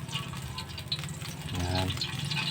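Cooking oil pours into a large pan, a soft, faint trickle that swells slightly near the end before the stir-fry begins.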